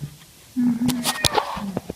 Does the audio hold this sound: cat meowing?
yes